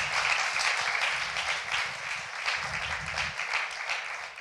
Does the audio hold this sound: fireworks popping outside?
no